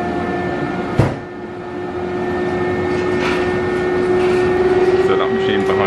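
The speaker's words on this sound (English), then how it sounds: "that machine behind me, that there, is the centrifuge, and what that is doing is spinning the blood really, really fast" A centrifuge spins blood vials for platelet-rich plasma in a hair transplant clinic, giving a steady hum with a sustained tone that rises slightly partway through, under room noise, after a single sharp knock near the start.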